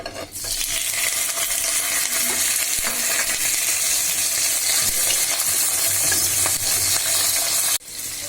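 Prawns fry in a hot pan with a loud, continuous close sizzle and some stirring scrapes throughout, cutting off abruptly near the end.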